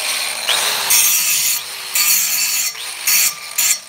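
A push mower blade being power sharpened in short bursts, the grinding rasp starting and stopping repeatedly with brief pauses between, close and fairly loud.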